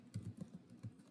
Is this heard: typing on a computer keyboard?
yes